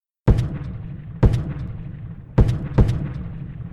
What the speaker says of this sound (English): But once the sound of General Longstreet's cannons are heard, the energy of the assault gives out.